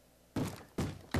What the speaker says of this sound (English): That's the sound of a zombie beating down a door.